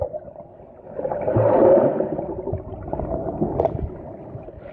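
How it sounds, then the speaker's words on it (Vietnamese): Samsung Galaxy S8 and LG G6 smartphones are dunked underwater in a swimming pool, giving a muffled submerged rumble with gurgling water that swells midway and then settles. "Giờ mình tiến hành nhúng nước nó."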